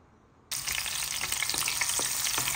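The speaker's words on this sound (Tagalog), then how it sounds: "Ginigisa muna natin ang ating bawang." Garlic hits hot olive oil and bursts into a loud, sudden sizzle that continues steadily with crackling pops close by, for a Filipino mixed-vegetable sauté.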